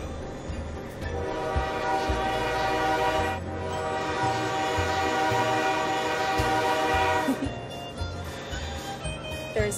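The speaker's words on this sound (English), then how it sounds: "This is the train horn." A sustained train horn blares loudly over the steady rumble of a moving train, holding a long chordal tone with brief dips, while the rolling rail noise continues underneath.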